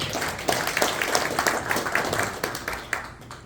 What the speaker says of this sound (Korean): 먼저 주호영 원내대표님 먼저 큰 박수 한번 하겠습니다